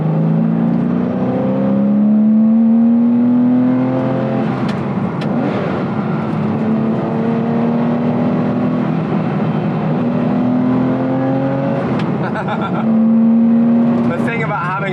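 A Paul Stephens Autoart Porsche 993R driving on the road, its engine loud and close as it climbs through gears in rising pulls with brief dips between shifts.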